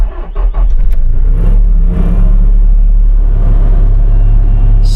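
A skid steer's engine idling in a loud, steady low rumble with a slight rise early on, close by and unbroken, no speech over it.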